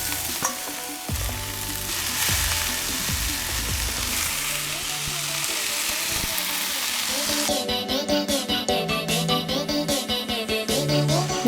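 Water spinach (kangkung) stir-fried in hot oil with curry leaves, chili flakes and salt, sizzling loudly and steadily, then rhythmic scraping and tossing strokes take over as the greens are mixed in the pan.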